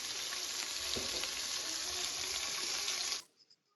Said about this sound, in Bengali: তো শাসলিকগুলাকে আমি ভেজে নিচ্ছি।